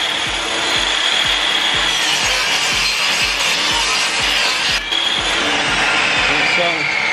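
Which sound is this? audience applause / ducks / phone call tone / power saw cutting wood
power saw cutting wood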